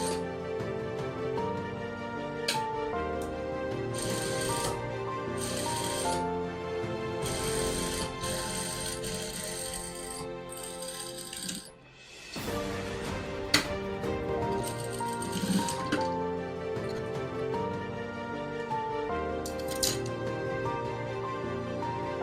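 Sewing machine stitching a kaftan, a fairly quiet steady mechanical whirr and ticking of the needle running in long stretches, with one brief pause partway through.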